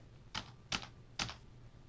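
Computer keyboard keys pressed for cut and paste while solving an algebra problem: three quick separate taps spaced about half a second apart, clear and close in a quiet room.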